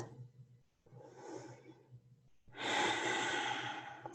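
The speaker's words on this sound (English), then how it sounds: "Inhale, exhale, release." Deep, slow breathing during a yoga flow: a soft inhale, a pause, then a longer, louder exhale, heard close and quiet with no talking.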